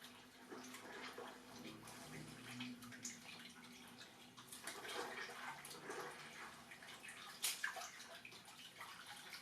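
Dyed silk being rinsed in water after indigo dyeing with dry leaves, giving continuous splashing and sloshing with faint drips, steady and close with a few louder swishes.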